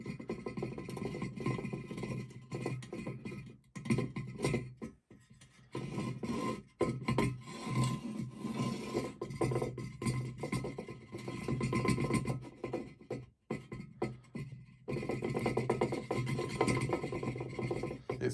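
A loose metal plate on an engine rattles and scrapes as the engine is shaken on a table, making a close, continuous rasping clatter with a few brief pauses and no voices.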